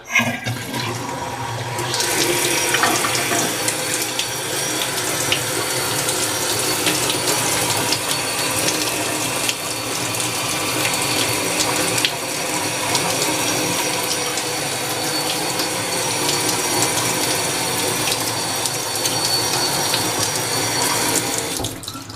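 Water gushes hard from a newly installed faucet into a new sink and drains away, a loud, steady rushing splash that starts abruptly and runs continuously until near the end.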